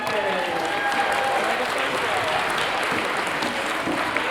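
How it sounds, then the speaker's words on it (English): An audience at a school spring concert claps for staff and teachers, a sustained, fairly close round of applause with a few voices mixed in. "So can we have a round of applause for our staff and teachers?"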